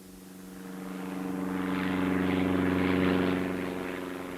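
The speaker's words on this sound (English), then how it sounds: "Firefighters drop thousands of litres of water from specially designed planes" A firefighting propeller plane drones overhead, its engine hum swelling as it approaches and then slowly fading away.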